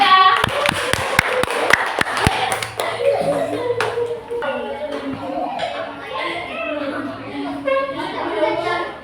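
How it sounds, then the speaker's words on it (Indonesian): Students clap for a classmates' group after a classroom presentation, a burst of sharp claps in the first two seconds, then children's voices and chatter take over. "Oke, tepuk tangan untuk kelompok 3"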